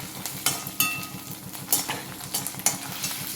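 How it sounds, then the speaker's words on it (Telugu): Onions and ginger-garlic paste fry in a pan for chhole, a steady sizzle under rhythmic scraping strokes of a utensil and sharp metallic clinks against the pan, close and busy, no voices. "అల్లం వెల్లుల్లి పేస్ట్ వేసాక కొంచెం కలిపేసి"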